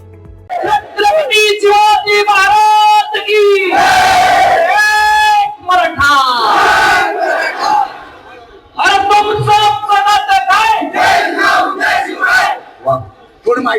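A large crowd of Maratha community members in Akole taluka roars and cheers at a victory celebration, with loud, sustained shouting and chanting voices in bursts across the whole stretch, briefly dipping before surging again.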